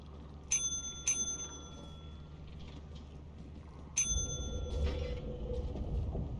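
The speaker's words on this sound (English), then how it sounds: "Step away from the bell." Bell rung in Lethal Company video game: three bright metallic dings, two close together and a third after a pause, over low rumbling game ambience.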